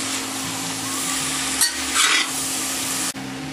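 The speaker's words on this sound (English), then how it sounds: "Stir that down." Tomatoes, chilies and garlic are stirred in a stir-fry pan for a vegetarian side dish. A loud, steady sizzle runs throughout, broken by a few scraping stirs, close up and without speech.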